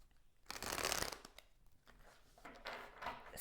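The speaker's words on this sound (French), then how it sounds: "Je vais commencer à tirer sur les cartes du jeu ici, qui sont les cartes d'énergie." Tarot energy cards being shuffled and drawn, two crisp riffling bursts close up, the first longer and louder, with soft handling rustles between them and no talking.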